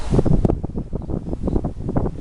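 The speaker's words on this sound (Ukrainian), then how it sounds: "Вітер. Дуже сильний вітер." Strong wind gusts buffet the microphone in loud, rumbling bursts at an apiary in late March, continuous and close, with no voices.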